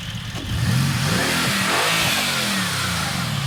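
Mercedes-AMG GT C Roadster with a front-mid-mounted biturbo V8, a loud close engine rev that rises and falls once, then settles into a throaty hold.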